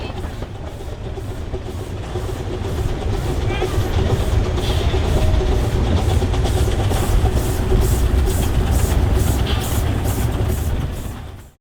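A steam train on the Redwood Valley Railway chugs along with a loud, rhythmic mechanical pulse and heavy low rumble, steady and close before cutting off abruptly.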